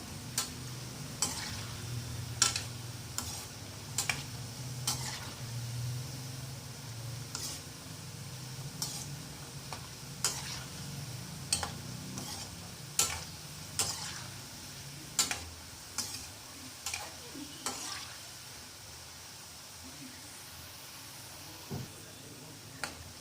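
Cucumber pakoras fry in hot oil while a spoon stirs them, a low steady sizzle under repeated sharp scrapes and taps against the pan at irregular intervals, close by.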